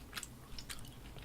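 Close, wet chewing of cinnamon chewing gum, a few soft smacking and clicking bites in an irregular rhythm, fairly quiet with no talking.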